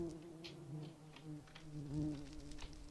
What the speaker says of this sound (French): Il y a des bruits d'abeilles.